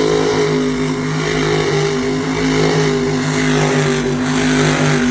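Monster truck engine at Lebanon Valley roaring steadily as it spins donuts, a loud, sustained revving drone with a droning low hum and no pauses.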